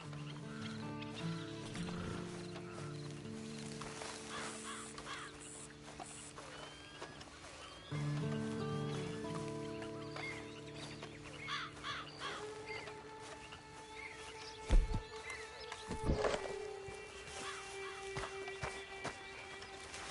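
Horse hooves clip-clop at a steady walking pace in Red Dead Redemption 2 Online, fairly faint, with crows cawing repeatedly over the top and no talking.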